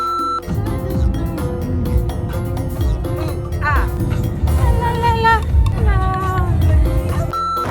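A cat meowing outdoors on an evening stop in Marlborough, New Zealand, with several drawn-out rising and falling meows in the second half against steady background noise.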